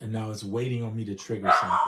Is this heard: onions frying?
no